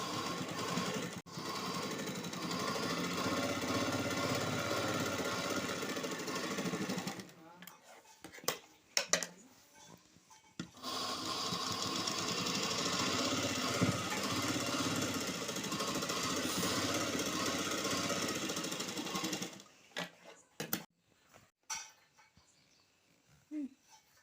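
A sewing machine runs in two long bursts while stitching an embroidered blouse, its steady mechanical whir broken by short pauses and handling clatter between runs.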